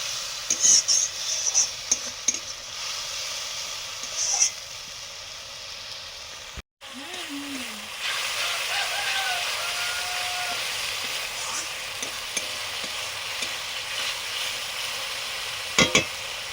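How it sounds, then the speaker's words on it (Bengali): Spice paste of chilli, turmeric and tomato sautéed and stirred in a pan, heard as a continuous soft sizzle with intermittent scraping stirs, a brief sharp break midway and a faint bleat-like squeal over the hiss. "মশলা কষানো হয়ে গেছে"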